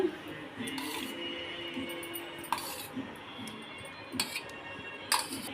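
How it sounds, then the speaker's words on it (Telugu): Chicken is mixed with turmeric, rock salt and yogurt in a bowl, with scattered clinks and scrapes of a utensil against the dish while a voice talks. "ఇప్పుడు ఈ ఇంగ్రీడియంట్స్ని మేమైతే మిక్స్ చేసేసుకుంటున్నాము"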